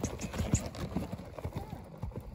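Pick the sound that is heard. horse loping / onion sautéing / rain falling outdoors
horse loping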